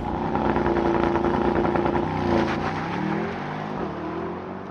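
A 2023 Mercedes-AMG SL63 4MATIC+ with a 4-liter twin-turbo V8 doing a race start, a loud, close engine roar climbing in pitch through the gears, with a shift dip near the end.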